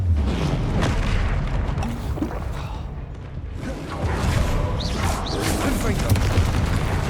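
Confringo spell blasts in Hogwarts Legacy, loud booming impacts and whooshing swishes layered over busy game action, with a brief dip midway before another burst of explosive crashes, and a voice talking underneath.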